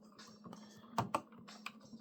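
Keys of an Icon P1-M MIDI controller being pressed, a few soft quick clicks and taps close up, with two sharper presses in the middle, over a faint steady hum.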